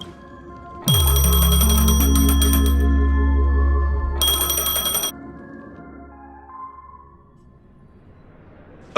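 A telephone ringing in the game Honkai Star Rail: two loud bursts of bright electronic ringing over a sustained low tone, then fading into quieter ambient tones.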